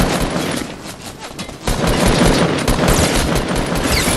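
Rapid bursts of video game gunfire, including shotgun blasts, ring out loud and dense throughout a competitive lobby fight, jumping even louder after a short dip partway through, with no voices over it.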